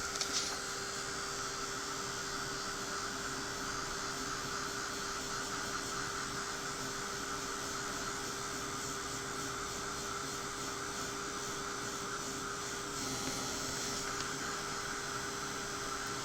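A heat tool drying a foiled card gives a steady, even electric whir with a constant hum, running close and uninterrupted for the whole stretch.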